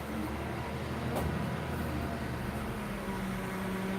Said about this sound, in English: The traffic is getting started.